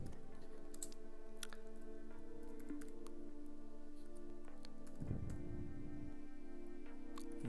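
Computer keyboard typing on a Linux CentOS 7 machine, entering a gedit command, with steady quiet key clicks over a constant background hum and no speech.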